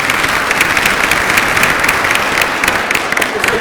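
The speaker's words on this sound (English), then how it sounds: "Give yourselves a round of applause for coming" An audience at a talk on Italians, Poles and parishes applauds loudly and evenly, a steady mass of clapping with no speech over it.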